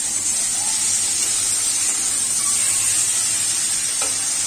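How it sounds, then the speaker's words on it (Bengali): Tomato and green chili frying in a pan, a steady, close, even sizzle throughout with a faint stirring sound near the end. "আর এর মধ্যে টমেটো আর কাঁচা লঙ্কা দিয়ে এটাকে ভাজা ভাজা করছে"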